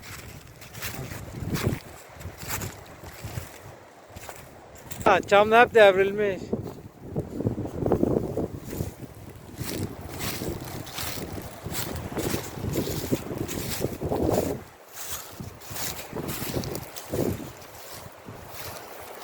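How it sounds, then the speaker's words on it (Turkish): Wind gusting across an open hillside where pines have been blown over, a steady buffeting rush over the microphone with louder gusts, while people talk through much of it. "Rüzgar var ya."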